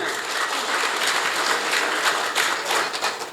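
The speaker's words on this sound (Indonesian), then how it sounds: "Tepuk tangan buat semuanya." A crowd at a Nasdem party event in Bekasi breaks into sustained applause, a dense and even wash of clapping heard close and loud from start to finish.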